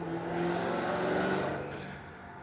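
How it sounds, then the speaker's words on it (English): A loud car roars past close by, its engine note swelling to a peak and then fading slightly as it moves away, with no talking. "Whenever you hear cars go by and you hear like those real loud cars"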